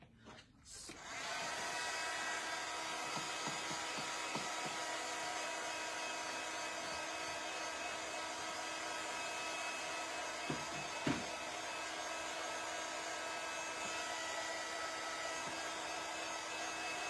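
Heat dryer drying gold paint on a stamped card, switching on and then blowing as a steady loud whirring hum for the rest of the span, with a couple of faint taps.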